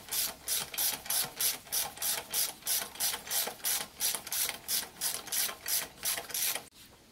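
A hand ratchet fitted with a 15 mm socket clicks steadily on engine bolts in a garage, about twenty even, close pawl clicks in a regular rhythm with no talking.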